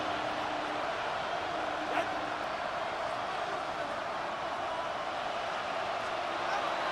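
A stadium crowd roars in the Madden NFL 26 football game between the Jets and Dolphins, a steady, dense wash of cheering noise that holds at an even level for the whole stretch with one brief swell near the start.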